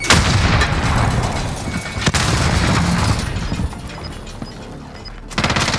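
Frag grenade blast and rapid gunfire in a Call of Duty Warzone match, a dense loud run of shots and booms with one sharp crack midway, fading briefly before a fresh burst at the end.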